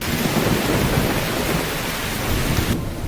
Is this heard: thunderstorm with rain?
yes